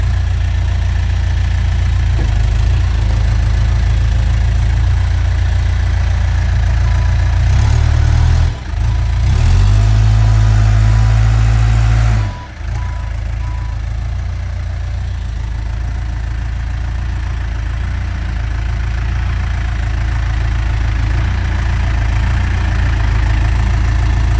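A backhoe engine idles loudly and close by as the machine is positioned near logs for milling, a steady low diesel rumble that swells briefly in the middle before settling back to idle.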